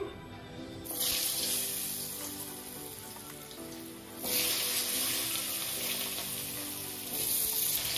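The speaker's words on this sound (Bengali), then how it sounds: "এখন আমি আলুটাকে ভেজে নিচ্ছি।" Steady hissing sizzle of potatoes frying in hot oil, swelling louder in a few bursts, with no voices.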